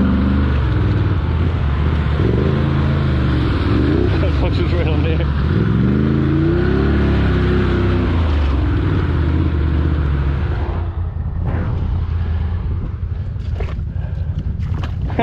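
A car engine revs hard and roars continuously while the vehicle is stuck in the woods, loud and close with wavering pitch as the throttle rises and falls, and voices speak over it.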